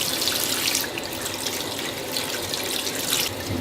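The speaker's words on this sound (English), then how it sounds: "take these here taters and just kind of wash them off a little bit" Running tap water splashes steadily over sweet potatoes in a sink, a dense continuous rush with slight shifts in splashing, no speech.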